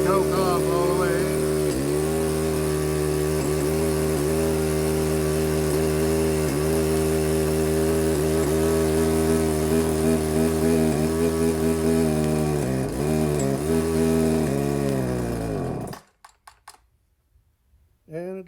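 A Poulan chainsaw engine running steadily at a buzzing idle with small speed wavers, loud and close, then cutting off abruptly near the end.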